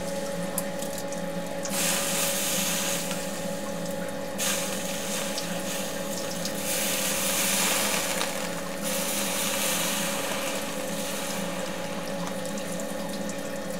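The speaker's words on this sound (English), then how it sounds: "That's what flood coolant's for, right?" Flood coolant pours steadily over a machine tool in a home garage shop while a weight-lifting bar is modified, a continuous splashing hiss over a low motor hum, with no talking.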